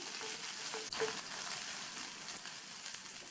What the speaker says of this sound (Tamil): 3 சின்ன பல் பூண்டு, 10-12 சின்ன வெங்காயம், ஒரு கட் பண்ண காஞ்ச மிளகாயையும் சேர்த்து வதக்கிக்கலாம்